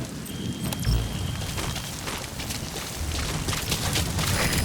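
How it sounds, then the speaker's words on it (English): Steady rainfall in the game Metal Gear Solid 5, a dense continuous hiss with low rumbling swells like distant thunder, fairly loud and constant with no talking. "Sound of rainfall should help to mask your footsteps."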